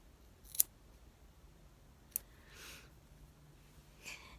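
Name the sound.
scissors cutting reborn doll hair in half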